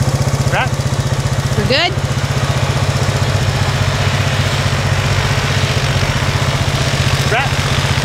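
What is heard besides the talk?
four-wheeler (ATV) engine idling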